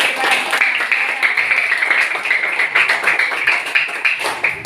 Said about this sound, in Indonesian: baik kita kasih aplaus ya